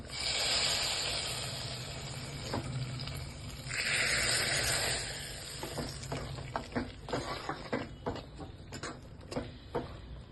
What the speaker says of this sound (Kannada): ಇದು ಒಗ್ಗರಣೆ ಕೊಡಿ.